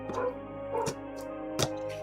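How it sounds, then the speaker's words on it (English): Dog barking indoors during a livestream, with several sharp, fairly near barks or yips spaced about a second apart over a steady background hum. "I don't know why my dog's barking."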